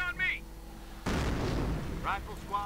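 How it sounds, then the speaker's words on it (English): A single German mortar firing in a video game, one sudden heavy boom with a rumbling tail, heard between short bursts of a voice speaking before and after. "German mortar firing away."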